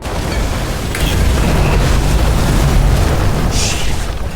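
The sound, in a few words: fuses blowing, from a video game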